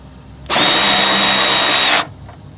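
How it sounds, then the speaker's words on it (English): A power tool with a 10mm socket spins to remove a fastener from a car's windshield washer tank, a single loud, steady whirring burst of about one and a half seconds, close up, between short quiet gaps. "first you'll need a 10mm socket to remove the fastener from the windshield washer tank"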